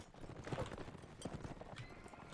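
Horse hooves clip-clop in quick uneven beats during a cavalry charge in the medieval combat game Mount & Blade: Warband, fairly faint amid battle clatter.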